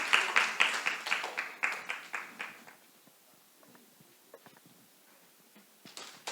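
A church congregation claps in applause at a Sunday worship service, a burst of many hands close together that fades out over a few seconds before quieter scattered taps.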